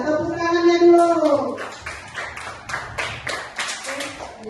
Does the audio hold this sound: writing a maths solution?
no